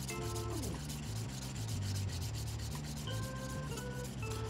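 A file works over a gel nail extension, a soft continuous rubbing scrape close up, partly under steady background music.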